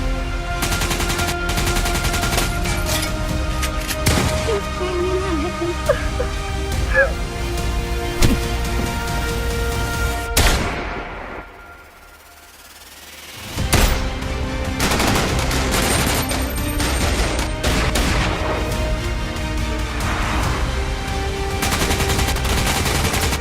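Dense, rapid gunfire from a video game heist shootout rattles almost nonstop, with a brief quiet lull midway before the shots resume loudly.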